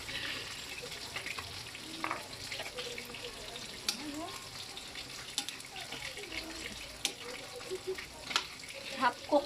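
Vegetables sautéing in a pan for a Kapampangan-style ginisang gulay, a steady crackling sizzle with scattered stirring clinks and scrapes, moderately close with no one talking.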